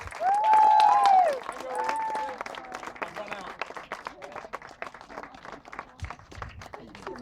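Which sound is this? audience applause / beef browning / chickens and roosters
audience applause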